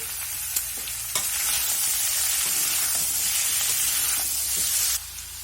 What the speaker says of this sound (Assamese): এতিয়া পিঁয়াজ, নহৰু, আদাখিনি দি দিছোঁ। সেইটো ভালদৰে লৰাম।